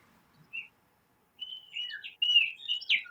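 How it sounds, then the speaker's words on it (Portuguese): A small bird sings outdoors near a cattle corral, giving a few faint high chirps and then a livelier run of warbling notes that builds toward the end. "Tem um passarinho cantando aí, hein?"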